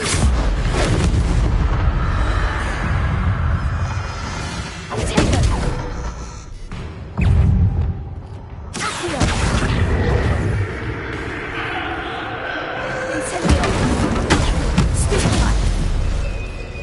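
Bombarda explosion spells from the Hogwarts Legacy game, several heavy booming blasts spread across the stretch over a dense, continuous rumble, with a person talking at times.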